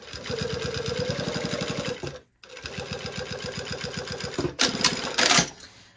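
Sewing machine stitching slowly over a seam during quilting, a rapid regular needle rhythm in two bursts separated by a brief pause, close and clear, with a short rustle of fabric afterward.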